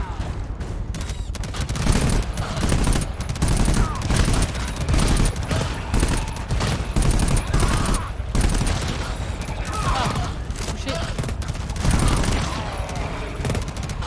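Dense, sustained automatic gunfire from a sentry turret in the co-op video game GTFO, loud bursts rattling almost nonstop for the whole stretch with voices faintly mixed in underneath.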